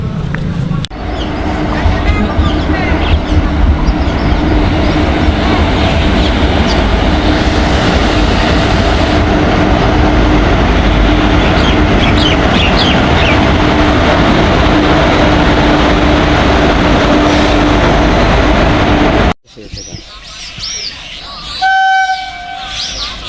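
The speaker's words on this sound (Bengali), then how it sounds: "শেষমেশ আমাদের ট্রেন চলে এসেছে।" A passenger train pulls into a station on the Azimganj route with a loud, steady rumble and clatter of wagons for most of the stretch, then the roar drops off abruptly, leaving quieter platform noise and a brief horn-like tone.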